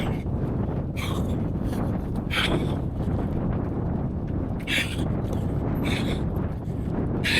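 Steady headwind gusting over a microphone during a run, a dense continuous roar with rumbling low buffeting and a few brief brighter bursts.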